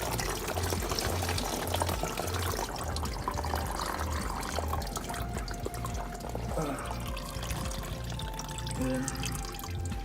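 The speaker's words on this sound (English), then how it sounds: "I'm gonna let those two drain more" Coolant pours and splashes steadily from a disconnected radiator hose on a Nissan Titan, a continuous close liquid trickle with drips, and a voice briefly speaks over it.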